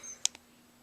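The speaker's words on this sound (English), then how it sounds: "So that what you heard there was the chirp." A pager alert chirp, one short, sharp, high-pitched electronic tone followed by a fainter echo-like second blip, brief and quiet against a steady low hum.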